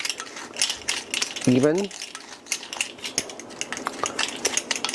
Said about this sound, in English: Gonna mix that together so those are all nice and